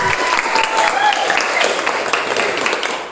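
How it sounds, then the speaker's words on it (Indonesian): Applause from a group of students in an Indonesian classroom, praising the best group of the day: steady, dense clapping throughout, moderately close, with a voice faintly audible beneath. "kasih tepuk tangan"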